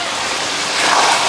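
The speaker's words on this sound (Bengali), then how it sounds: "ভাতের হাঁড়ি টকবক টকবক করতেছে" A pot of rice boils hard on a clay stove, a loud, continuous bubbling roar heard up close and steady throughout, with no voices.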